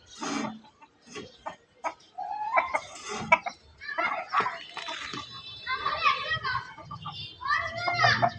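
Backyard chickens clucking and calling at feeding time, a busy mix of short clucks and squawks close by, with children talking and playing over them throughout.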